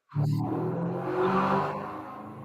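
A Mustang engine revs hard outside, rising quickly to a loud, roaring burst that holds for about two seconds and then fades slightly, with no talk over it.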